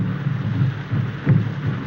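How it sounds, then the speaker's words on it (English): Steady rain falls through the night with a low rumbling undertone, a continuous dense wash that swells slightly at moments, heard alone without voices. "This rain and those drums."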